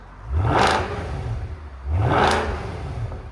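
A 2008 Mercedes S 63 6.3L V8 with a resonator delete revs hard twice, each rising roar peaking then settling back to a rumbling idle between bursts.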